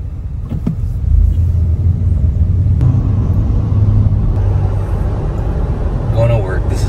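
Car cruising along a road in Dubai, a loud steady interior engine and tyre rumble throughout, with a faint voice briefly near the end.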